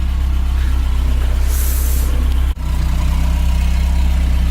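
A 1979 Toyota pickup engine fitted with a new header and exhaust idles at a steady, close, deep rumble, with one brief dip in the middle and no voices.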